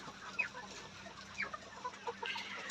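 Layer hens cluck softly on a poultry farm in Bangladesh, a few short, scattered clucks rising over a quiet background hum.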